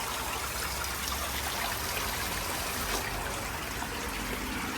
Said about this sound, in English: Sorry, I had to turn my hose off because I'm filling up my pond.